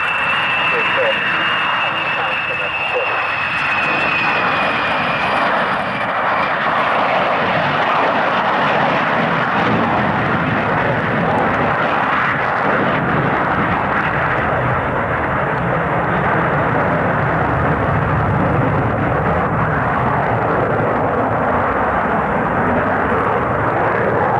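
A jet aircraft derived from the de Havilland Comet 4C flies past at the 1992 RAF Coningsby airshow. Its engines roar loud and sustained under an announcer's public-address commentary.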